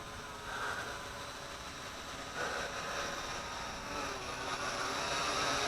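Syma X8G quadcopter drone flying overhead, a steady high-pitched rotor buzz and whine at moderate distance, rising and falling slightly as throttle changes, with light wind noise underneath.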